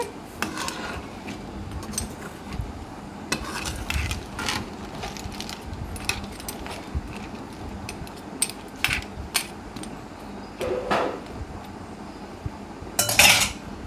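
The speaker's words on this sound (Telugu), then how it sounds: "మొత్తం కలిసే విధంగా ఇట్లా గరిటతో కలిపేసుకోవాలి" Metal ladle clanking and scraping against a pot while stirring Andhra-style crab curry, with irregular clinks and scrapes over a soft background hiss, no talking.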